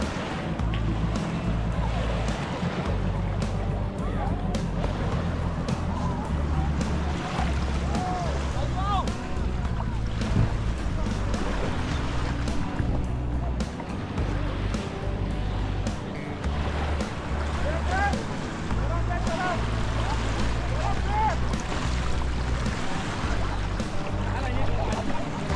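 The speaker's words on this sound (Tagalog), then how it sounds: "Alon ng tubig." Lake waves wash steadily onto the beach at Scarborough Bluffs in Toronto, a continuous low surf with a little wind, while people talk nearby throughout.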